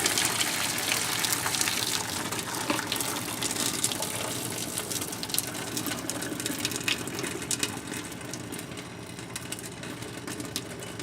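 Hot water pours out of a cooking pot held by its handles with the lid on, a steady rushing, splashing gush of liquid that keeps going close by and alone.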